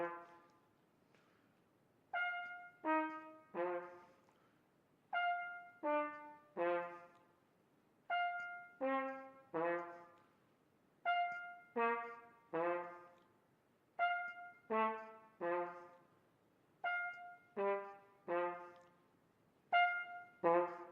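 Solo trumpet playing a variation that spans two octaves in a lecture recital: repeated groups of clear, ringing notes rising and falling in short phrases separated by brief pauses, close and unaccompanied.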